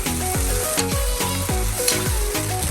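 Meat stirred in a pot of boiling water, with about seven rhythmic scraping sweeps over a constant bubbling sizzle, close and without talk.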